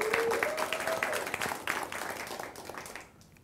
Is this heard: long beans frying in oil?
no